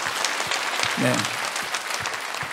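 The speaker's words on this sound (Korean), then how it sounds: "박수 한번 쳐줘요." A congregation applauds during a Korean Sunday church service. Steady, moderately loud clapping from many hands runs throughout, and a voice briefly speaks over it midway.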